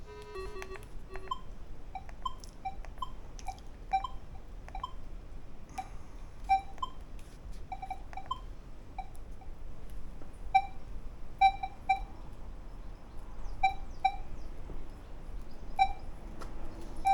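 A Minelab metal detector, freshly switched on, gives a string of short, clear electronic beeps at irregular intervals over a low background hiss, with no talking.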